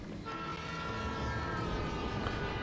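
Train rumbling along rails in a video game, a steady loud rolling drone with tonal whistle-like overtones that holds for the whole stretch, with no talking.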